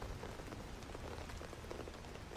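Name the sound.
rain in a video game (STALKER GAMMA), light downpour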